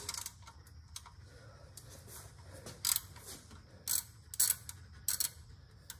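Ratchet with a 13 mm socket working the oil drain plug on a 2011 Ford Ranger 2.3L, giving a few sharp clicking bursts over a low steady hum, close and fairly quiet.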